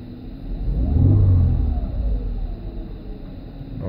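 A stock 2011 Mercedes-Benz C300 engine revs up once, swelling to a deep roar and then settling back to a steady idle rumble, close by.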